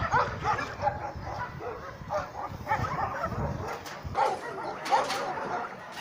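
Several dogs at an animal shelter bark and yip in overlapping bursts at a moderate distance, with a whimper or two mixed in, continuing without pause.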